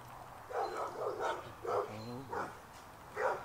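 A dog barks several times in short bursts, fairly close, with brief pauses between barks and no talking.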